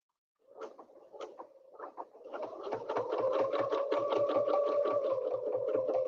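Sewing machine stitching a quilt, starting with a few slow separate stitches and then settling into a steady, fast, even run of needle strokes with a motor hum, close and continuous.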